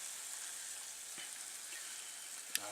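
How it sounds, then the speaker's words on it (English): Pork sizzling steadily in a pan while being cooked in a van, a continuous soft frying hiss with a faint scrape and a sharp tap near the end as the meat is flipped. "I'll just flip this pork over."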